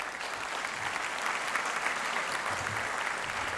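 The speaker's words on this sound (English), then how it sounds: "Could we give them a round of applause," A crowd at a Hall of Fame induction ceremony applauds Hall of Fame committee members, a steady, dense wash of clapping that holds evenly throughout without pause.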